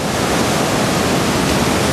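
The Gori and Kali rivers, fed from the Himalaya, rush together at their confluence near Jauljibi, making a loud, unbroken roar of flowing water heard close by, with no voices.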